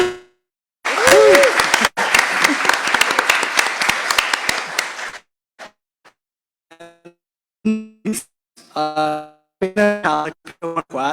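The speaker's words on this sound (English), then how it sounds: "And a round of applause for Cora, everyone." A crowd applauds for about four seconds, a dense burst of clapping that stops abruptly, followed by scattered speech.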